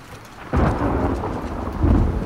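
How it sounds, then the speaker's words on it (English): Thunder rolls out in a loud, sudden crack and rumble over steady rain during a storm in the video game The Last of Us Part II, then swells again near the end, with no one talking over it. "There's a storm brewing outside"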